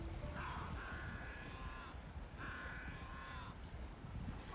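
A flock of crows caws on a spring beach in Vancouver while feeding, two bursts of repeated harsh calls from several birds close by, over a soft wash of wind and surf.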